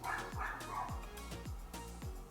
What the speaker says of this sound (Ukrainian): продовжує гавкати